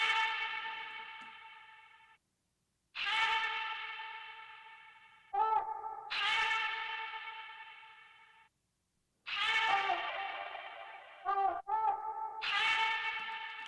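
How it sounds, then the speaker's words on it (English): A processed vocal sample sings sustained notes pitch-shifted to D, in separate phrases with brief stuttered chops between them, drenched in echo and reverb, no other instruments. "I added this background vocal that I got from Splice."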